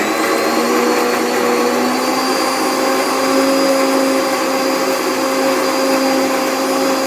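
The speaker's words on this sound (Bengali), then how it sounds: "বন্ধুরা আমি এটা মিক্সি করে নিচ্ছি" Electric mixer grinder whirring steadily while grinding spice paste for biryani, a loud, dense, constant drone with high whining overtones that holds unbroken throughout.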